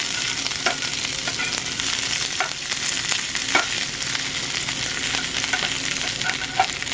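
Green peppers frying in a pan with plenty of oil over a lowered flame, a steady broadband sizzle with occasional crackles and pops, close and continuous, no voices.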